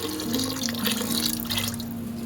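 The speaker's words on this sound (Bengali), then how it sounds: "পরিমাণ মতো জল দিয়ে দেবো আমি।" Water pours into a pressure cooker holding soaked peas, a close, continuous splashing rush with a steady tone as the vessel fills.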